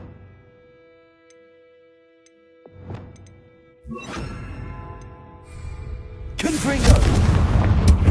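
Bombarda explosion spell from Hogwarts Legacy: a whooshing build-up breaks into a loud, rumbling blast that swells and stays heavy to the end, over game ambience.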